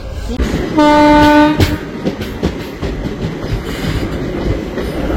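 A train horn blares briefly with steady tones amid the rumble of the Maa Tara Express arriving at Bolpur Shantiniketan station, then rolling rail noise continues beneath a busy background.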